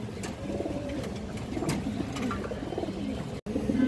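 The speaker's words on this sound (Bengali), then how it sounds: "এই যে দেখেন একবারে পুরনো জাতের কবুতর" Old-breed domestic pigeons coo steadily in a loft, several birds overlapping in soft, low rolling calls with a few sharper wingbeat-like bursts, close by and continuous throughout.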